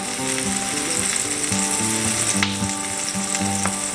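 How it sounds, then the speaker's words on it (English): A Reuben sandwich sizzles in butter in a pan, a steady close crackle with light ticking pops throughout, heard under faint background music and no talking. "at that buttery sizzleness"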